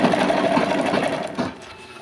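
A sewing machine stitches a fabric seat cover folded over twice, its fast whirring run steady and close before easing off near the end.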